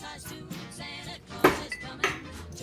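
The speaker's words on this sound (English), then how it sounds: "Pop one of these ice cubes in there." An ice cube drops into a glass for an apple pie holiday cocktail, giving a couple of sharp, close clinks over soft background music.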